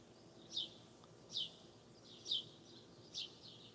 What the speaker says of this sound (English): You can just hear the birds then.